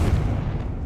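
A Confringo blasting spell goes off in Hogwarts Legacy, a loud, deep booming blast with a rumbling low-end body that fills the short moment without any talk.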